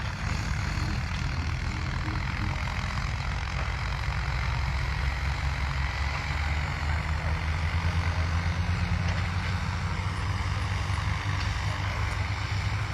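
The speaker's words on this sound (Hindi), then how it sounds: "देखिए किस तरीके से ट्रैक्टर धुआंधार तरीके से चल रहे हैं" Tractors and similar heavy machines working across a large field of about 900 bighas in a flood-flow area near Babera, Bansur, give a steady, loud, continuous engine drone with deep rumble throughout, no speech.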